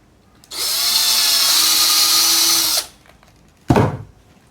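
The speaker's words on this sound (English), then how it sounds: "So I use a cordless drill with 4mm bit" A cordless drill with a 4mm bit whirs steadily for a couple of seconds, loud and close, then stops; a short sharp knock follows.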